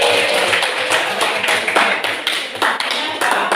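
A group of teachers in a classroom session claps hands in an uneven, fairly close patter of distinct slaps, some sharper than others, with faint voices in the background.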